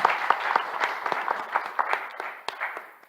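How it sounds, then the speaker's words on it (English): Applause from an audience at a formal program launch event, a rhythmic pattern of individual claps with a lively, uneven texture, moderately quiet and sustained. "Please applaud them."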